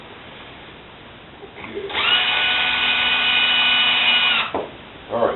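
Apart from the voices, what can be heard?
power drill driving short screws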